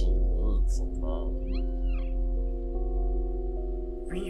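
A kitten in the game Stray gives several short meows at intervals over a steady low hum and a constant musical drone.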